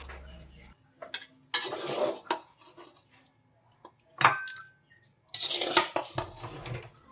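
Close scraping and clinking as a utensil stirs food in a bowl, in several irregular bursts separated by short quiet gaps.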